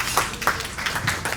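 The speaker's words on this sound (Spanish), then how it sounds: "Un fuerte aplauso para él." Applause at a business breakfast on natural gas greets a former vice president, heard as a short, light burst of separate claps from a modest audience, spaced and fairly faint.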